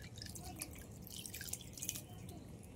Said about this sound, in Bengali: হালকা করে একটু ঠান্ডা জলে একটু ধুয়ে নিচ্ছি।